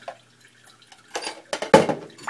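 Bluegill fish from Lake Biwa being rinsed under water, with a few short splashing, dripping bursts that grow louder toward the end and quiet gaps between them.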